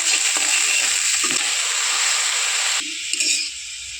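A small amount of white oil hisses and sizzles in a hot wok for soup, a loud close crackle that holds steady, then drops lower near the end as the frying eases.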